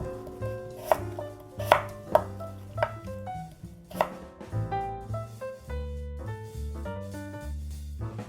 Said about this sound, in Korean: 깍두기 무는 뭐 큼직하게 원하시면 큼직하게도 쓰셔도 되는데 저희는 그냥 먹기 좋은 사이즈로 쓸겠습니다